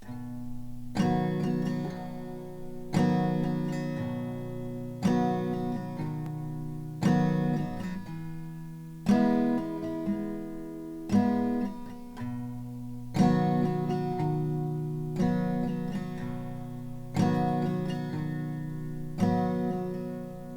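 Acoustic guitar strums in a steady pattern, single bass notes alternating between the strummed chords, repeating over and over at a relaxed tempo.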